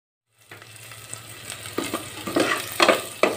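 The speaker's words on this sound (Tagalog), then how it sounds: "Magpainit muna tayo ng mantika, guys. Tara, maigisa muna natin yung ating mga lamas." Spices and aromatics hit hot cooking oil and sizzle up from silence into a steady close fry, with spatula stirs and scrapes growing louder toward the end, no voices.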